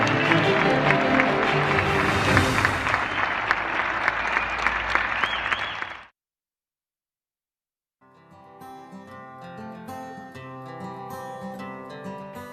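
Applause for cable workers on a radio program broadcast: about six seconds of loud, dense clapping with crowd noise, a short silence, then music fading in.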